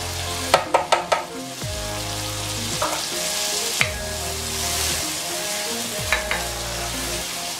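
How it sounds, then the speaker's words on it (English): Ground pepper and crayfish sizzle and fry in a pot of tomato for Nigerian jollof rice, a steady loud frying hiss broken by a few quick clinks and stirring scrapes of a spoon against the pot. "So I will add my grounded pepper and crayfish."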